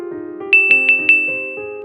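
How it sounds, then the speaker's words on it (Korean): A mobile phone rings loudly with a bright repeating alert of four sharp chimes over a sustained electronic tone, close and alone. "상호 씨의 휴대전화에서 요란한 소리가 울렸습니다."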